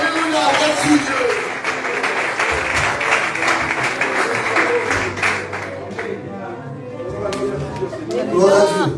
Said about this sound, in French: Applaudissons la présence de Dieu, s'il vous plaît.